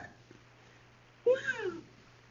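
A cat gives a single clear meow with a rising then falling pitch, close and distinct after a quiet stretch with a faint steady hum underneath.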